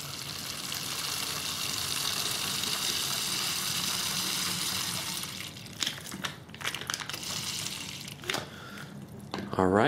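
Water squeezed by hand through a Sawyer Squeeze filter into a water bottle makes a steady, close hiss of flowing liquid. After a few seconds it breaks into uneven spurts and gurgles.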